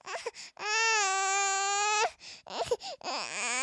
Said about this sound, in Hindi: अब बच्चा जैसे रो रहा है